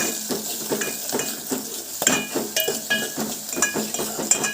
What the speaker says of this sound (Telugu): పసుపు యాడ్ చేసి బాగా కలపాలండి